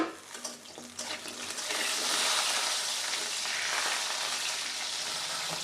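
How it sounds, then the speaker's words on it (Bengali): Pumpkin lentil dumplings fry in oil as water on the spatula hits the pan, so a sizzle starts with a few stirring scrapes, then swells into a loud, steady hiss that holds to the end. "খুন্তির সাথে পানি ছিল তাই এমন শব্দ হচ্ছে।"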